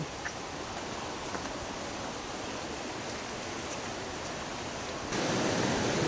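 A monsoon-season stream rushes past in an unbroken, broadband wash of flowing water that swells louder near the end, with no one speaking.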